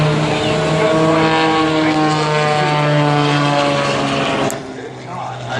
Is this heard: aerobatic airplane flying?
yes